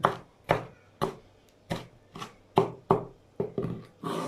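Knife chops through dürüm filling on a board, about eleven sharp, evenly spaced strikes close by with short decays, no voices.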